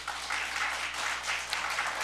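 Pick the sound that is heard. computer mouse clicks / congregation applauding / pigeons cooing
congregation applauding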